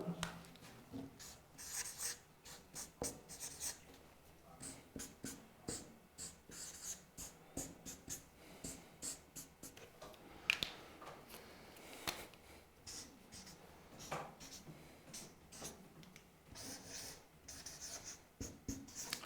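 Chalk or marker strokes on a board while a boron trifluoride structure is drawn in a chemistry class, a quiet run of short scratchy taps and rubs in an irregular rhythm, with faint talk.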